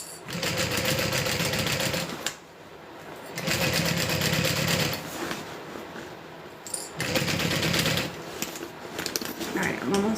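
A sewing machine stitches a Becca Bag by Butter Bags in three loud, close bursts of rapid needle chatter. Brief pauses separate the bursts, and a voice talks in the background.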